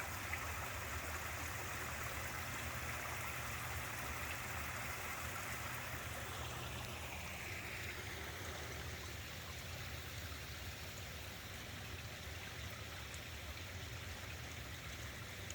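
A small waterfall trickles in the Newell Creek Canyon creek near Oregon City, running at low end-of-summer flow, with a soft, steady, distant wash of water heard alone throughout.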